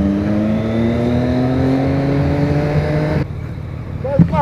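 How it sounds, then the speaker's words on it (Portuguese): A vehicle accelerates hard past a cyclist on the road, its engine revving loudly and rising in pitch for about three seconds before cutting off abruptly, followed by brief quieter noise with a short voice. "Pode dar uma acelerada do lado do bicicleteiro."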